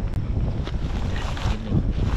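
Wind gusting across a campsite, a steady low roar of buffeting against the microphone with no voices.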